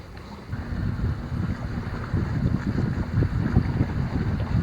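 A pair of ferries crossing in front of a sailboat's bow on open water make a low, continuous rumble, mixed with heavy wind buffeting and water wash.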